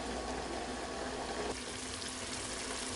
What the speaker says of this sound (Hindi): और आधा कप पानी डालकर